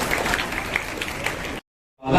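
Audience applause at a school gathering in Bhusawal, dense and steady for about a second and a half, then a sudden gap of silence before it swells back in.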